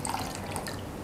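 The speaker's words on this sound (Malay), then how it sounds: "Dan tuang sedikit air." Water trickles and drips as a small splash is poured into chili sauce for sweet and sour chicken, a soft, steady liquid patter close by with no talking.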